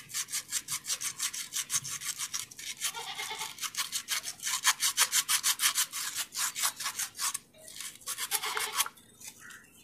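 Sewing machine part rubbed with sandpaper by hand: a fast, steady back-and-forth scratching, about three strokes a second, close and continuous for nearly ten seconds with no talk.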